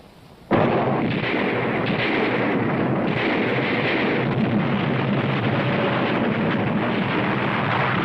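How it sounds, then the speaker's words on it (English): British artillery opening the El Alamein barrage in the desert, nearly a thousand guns firing together: a sudden loud onset, then a continuous thundering roll of overlapping booms and blasts that persists throughout without speech. "the British guns opened fire at exactly 9:40"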